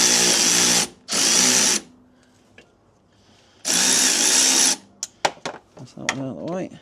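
A power tool spins a 15mm shock absorber bolt on a BMW 1 Series suspension in two loud, close bursts, then a longer burst, followed by clanks and a voice.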